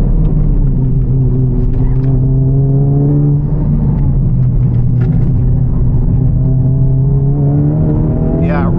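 A Honda Civic Type R FL5 on track-focused coilovers accelerates out of a turn, its engine drone rising and shifting in pitch from inside the cabin, loud and continuous, with a voice speaking over the engine noise.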